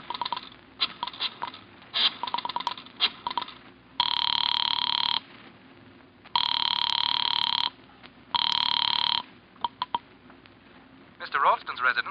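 A call placed from a phone booth in a corner drugstore sets a telephone ringing in three long, loud bursts, with clicks and muffled handling noises between and around them.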